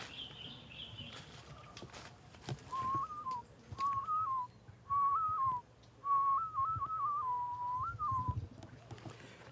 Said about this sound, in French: Ça, c'est le chant des oiseaux qu'il aime entendre.